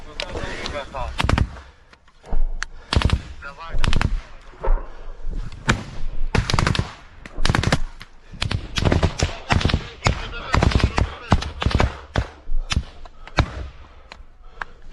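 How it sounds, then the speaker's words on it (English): Gunfire in close combat between Ukrainian and Russian soldiers: loud, dense, irregular shots and bursts cracking nearby in rapid succession, with barely a pause across the whole stretch. "Meanwhile, the volume of fire from the Russian side keeps climbing."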